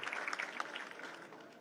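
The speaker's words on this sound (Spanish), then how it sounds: "Fuerte los aplausos también para Jorge Miguel Centurión Benítez" Applause for a computer-course graduate at a graduation ceremony in Paraguay, a crowd clapping steadily at moderate distance, strongest at first and then thinning out.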